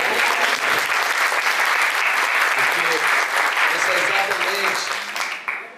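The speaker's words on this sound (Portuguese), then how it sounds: "Acho que ele merece uma salva de palmas." An indoor audience at a staff meeting bursts into sustained, dense applause for several seconds, with a few voices mixed in, before it tapers off at the end.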